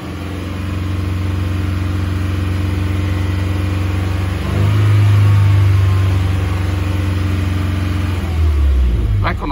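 A Subaru FA20 car engine idles loudly close by, then revs up to about 2,500 RPM while stationary, holds a higher pitch for a few seconds, and drops back down.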